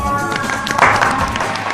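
School audience at an English talk show breaking into applause, a dense patter of claps lasting under two seconds, moderately close and mixed with crowd noise.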